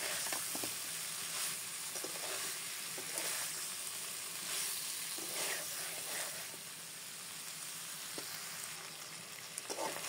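Shrimp and jackfruit curry sizzles steadily in a hot pan, with soft scraping and clinking from stirring breaking through the continuous close frying hiss; no voices.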